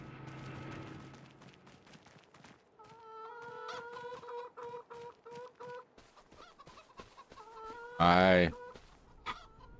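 Farm chickens clucking in Farming Simulator 25, a run of short repeated clucks and rising calls at moderate volume, with a louder squawk near the end.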